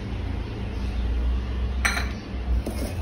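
Chopped vegetables are tossed with salt and oil in a bowl, giving a steady low rustle with a few sharp metallic clinks of a spoon against the bowl near the end.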